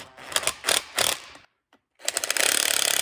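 Ratchet wrench fitted with a 9/16 socket tightening bolts on a Farmall tractor, giving loud bursts of rapid clicking, a short pause, then a steady run of quick clicks.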